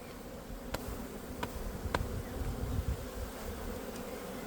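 Honeybees at an opened hive hum in a dense, continuous buzz that stays close and steady, with a few sharper ticks cutting through the drone.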